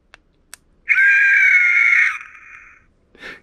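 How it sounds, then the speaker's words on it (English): A Ghostface screaming pin toy lets out one loud, shrill electronic scream lasting about two seconds. A couple of faint clicks come before it, and a short squeak follows, with no voices. "You can't forget the screaming pin."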